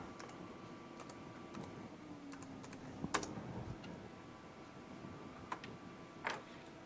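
Typing on a computer keyboard, a faint, close patter of key clicks with a few louder taps, continuous over a quiet background with no talk.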